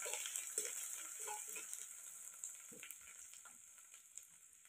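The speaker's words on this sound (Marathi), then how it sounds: "लसूण आणि कोथिंबीर टाकून घेते. छान तेलात परतून घ्यायचं." Garlic, ginger and coriander fry in oil, cooked over a wood-fired stove: a steady high hiss of sizzling with occasional soft stirring scrapes, close and continuous without speech.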